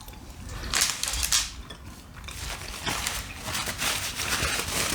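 Someone bites into and chews a KFC France brownie-cookie (brookie) close to the mic, giving a few crisp crunchy bites followed by softer, steady chewing, with no talk.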